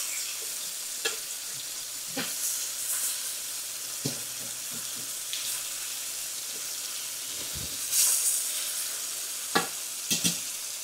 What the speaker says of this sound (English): Y'all, I'm frying this on about medium right here.